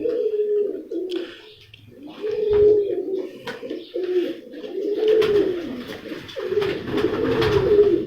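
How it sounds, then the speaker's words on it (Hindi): Sharmila breed pigeons coo close by in repeated low, throaty phrases, overlapping each other, with faint background noise and no clear talk. "ये राणा साहब जी राजा साहब ना शर्मीला कबूतर।"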